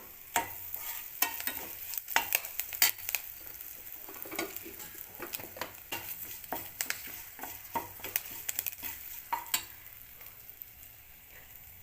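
Dry red chillies and asafoetida sizzle in hot oil on a gas stove for a spicy avalakki tempering, with a spoon scraping and stirring the pan in steady, irregular strokes over a soft continuous frying hiss, close and fairly loud.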